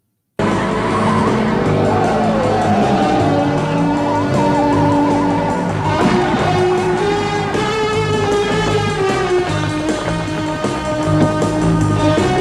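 A car drives with loud squealing, skidding tires, the screech rising and wavering over a continuous engine roar for the whole stretch.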